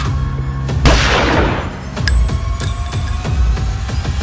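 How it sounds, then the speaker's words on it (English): A single dramatic gunshot sound effect booms out with a sharp crack and a long noisy decay, followed by low throbbing pulses in a dramatized crime scene. "Then, a gunshot tore through the silence."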